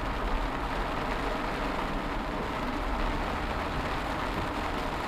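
Heavy rain pouring steadily over Tatuí, São Paulo, a dense continuous hiss with a low rumble underneath, even and unbroken throughout.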